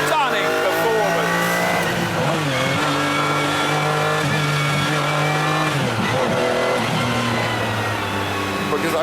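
McLaren F1 supercar on the road, its engine note rising and falling through gear changes in a loud, continuous drone, with someone talking over the cabin sound.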